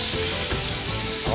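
Food sizzles and crackles steadily in olive oil and spices in a hot pan over medium heat, a close, dense hiss with no talking.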